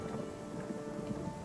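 Rain falls in the Craftopia survival crafting game, a dense, even patter of drops with a soft low rumble, steady and unbroken for the whole moment.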